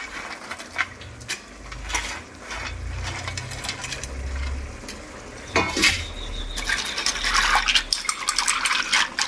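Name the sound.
washing fried fish pieces in water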